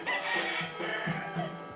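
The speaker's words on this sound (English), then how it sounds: "Roosters call" Roosters crowing and clucking through an early morning in the village of Antelau, Borneo, a dense overlapping chorus of fowl, fairly close and steady, with no voices over it.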